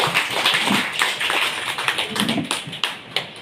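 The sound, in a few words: audience applause at an elders' home gathering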